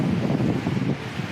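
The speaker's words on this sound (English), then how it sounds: "You can hear that wind roaring." Strong wind roars steadily outdoors on a rough, very windy day, a loud low buffeting rush that rises and falls slightly with no talk over it.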